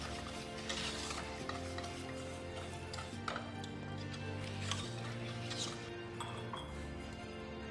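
A cocoa mixture stirred in a bowl or pan: soft continuous scraping and swishing with occasional light clinks of a utensil against the container, faint and close, under a low steady background hum.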